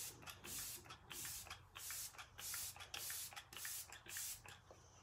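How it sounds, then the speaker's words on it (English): Several quick bursts of fine spray hiss in a regular rhythm, close by and soft, each puff lasting about half a second. "I'm gonna go in with setting spray."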